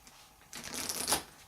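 A Weiss Schwarz discard pile of cards is shuffled by hand in one quick riffling burst of papery flicks, close and moderately loud, lasting about a second.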